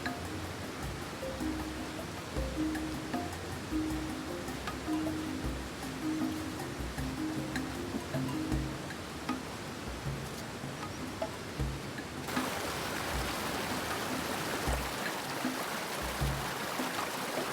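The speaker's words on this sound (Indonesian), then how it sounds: "Saya turun mendekati aliran sungai. Airnya tidak terlalu deras," A gentle, clear, cold river stream flows with a soft, steady burble and rush close by, with no talk, the water getting a little louder and fuller near the end.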